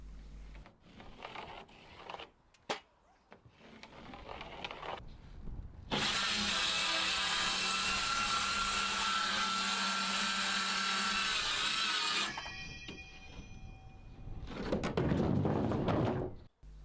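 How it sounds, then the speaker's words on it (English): Circular saw trimming excess wall sheathing off a garden room frame: a loud, steady whine lasting about six seconds that cuts off abruptly, with a second shorter burst near the end and quieter handling noises before it. "I can run the circular saw along that and trim off the excess."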